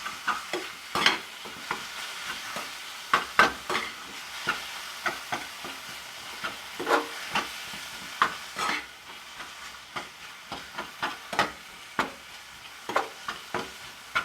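Mashed boiled eggplant is worked together with onion for begun bhorta. A spoon stirs and scrapes in a steady run of soft clicks and taps, close by, with no talking.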